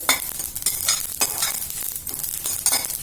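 Spiced cucumber chutney being stirred in a hot pan after the stove is off, a spoon scraping through the thick mixture in repeated strokes over a light residual sizzle, close and steady with no voices.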